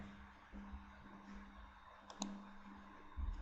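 A couple of light computer mouse clicks on a quiet desk, sparse and soft over a faint steady hum, with a slightly sharper click cluster partway through.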